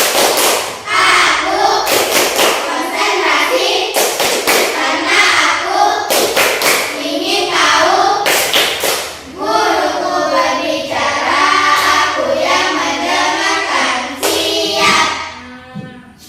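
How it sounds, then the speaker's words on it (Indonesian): A primary school class claps together in a rhythmic concentration game, sharp group claps landing in short bursts every couple of seconds, mixed with voices chanting in unison. "Ayo, tepuk konsentrasi."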